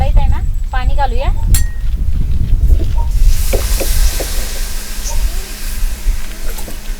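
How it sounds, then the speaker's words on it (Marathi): Water poured into a wok heating on a lit wood-fired chulha brings a steady steam hiss with a few metallic clinks, following a stretch of talk at the start. "तर आता आपण कढईत आहे ना पाणी घालूया."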